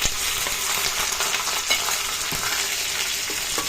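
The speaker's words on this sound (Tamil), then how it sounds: "சீரகம் எல்லாமே நல்லா தாளிச்சிட்ட பிறகு அதில் நம்ம வதக்கி வச்ச வெண்டைக்காவை ஆட் பண்ணிப்பாங்க." Sautéed okra fries loudly in oil with tempered cumin, a dense sizzle broken by a few scraping stirs of a spoon against the pan, close up and without voices.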